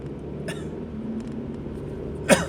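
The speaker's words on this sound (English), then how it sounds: "how I don't know why I start talking and I cough" A single short cough breaks out near the end, close and fairly loud over a faint room hum, with no talking around it.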